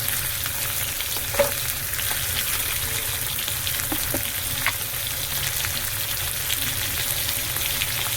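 Prawns with turmeric fry lightly in a pan, giving a steady, close sizzle throughout with a few faint stirring clicks over it.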